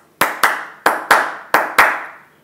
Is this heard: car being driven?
no